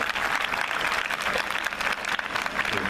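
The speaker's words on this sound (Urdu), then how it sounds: "تو ہم سب خداوند کی تعریف کے لیے ایک بار تالیاں بجائیں گے خداوند کے نام پر" A church congregation claps in praise, sustained dense applause filling the room at moderate distance, steady throughout with no voices standing out.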